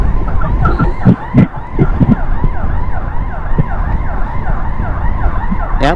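An ambulance siren wails in continuous rising and falling cycles during a motorcycle escort on the road, loud and close, over constant engine and traffic rumble.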